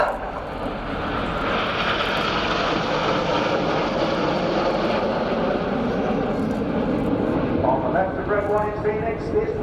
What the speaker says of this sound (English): The aircraft now moved into one of the most technically difficult formations with 6 aircraft, all in line abreast